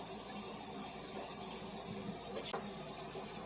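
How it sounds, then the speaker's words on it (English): Tap water runs steadily over raw chicken being rinsed, a soft even hiss of flowing water with a brief splash near the end, faint and alone. "I'm just going to rinse the chicken for a moment"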